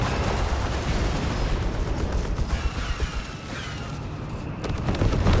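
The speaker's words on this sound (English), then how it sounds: "Good grenade there." A grenade blast in Company of Heroes 3 lands within dense, continuous battle noise, its boom blending into a steady roar of gunfire and artillery that stays loud throughout.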